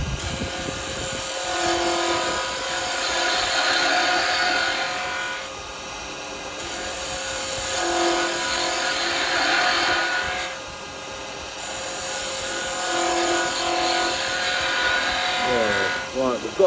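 A carbide woodturning tool cuts a spinning wooden Christmas tree on a lathe, giving a continuous rough scraping hiss over the motor's steady whine, swelling and easing in long passes as the tool moves along the wood.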